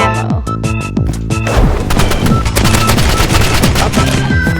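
Rapid, loud bursts of paintball gun fire in a video game, with dense repeated shots and impacts filling the mix continuously.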